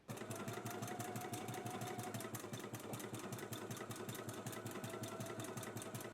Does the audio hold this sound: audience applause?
no